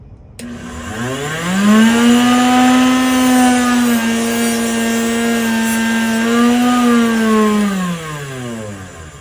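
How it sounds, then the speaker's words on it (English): Motorized fiber wheel, like an abrasive scouring pad, spinning up to a steady high whine and working against a Bear & Son pocket knife blade, loud and close, easing in pitch under load before winding down. "This is a fiber wheel. It's like an SOS pad."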